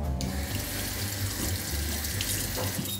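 Water tap running into a sink in a shopping mall restroom, a close, steady rushing splash that continues evenly for the whole span with no voices.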